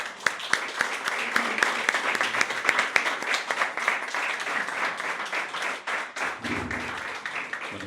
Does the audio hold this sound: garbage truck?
no